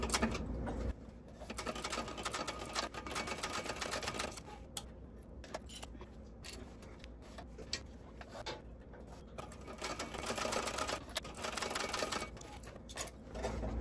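A sewing machine runs steadily at a 3.5 stitch length, stitching separate pieces of a Windsor bag lining, with dense mechanical chatter close by that continues almost without pause through the clip and has brief slowdowns in the middle.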